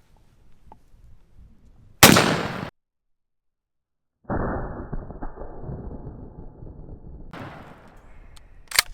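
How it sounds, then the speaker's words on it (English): A 12 gauge shotgun fires Dragon Breath incendiary shells outdoors: one loud sharp blast with a short roaring tail, then a sustained crackling burn and a further flaring burst near the end, with no talk. "These are Dragon Breath 12 gauge."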